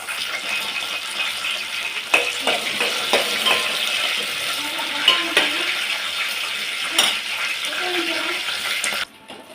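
Green chillies frying in oil in a pan for roti pachadi (ground chutney), a steady close hiss of bubbling oil with occasional stirring clicks and scrapes, running continuously and stopping abruptly near the end.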